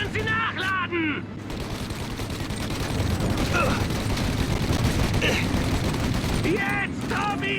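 Sustained gunfire from a shootout in the game Mafia: dense, loud volleys of rapid shots rolling on without pause, with voices calling out over the noise.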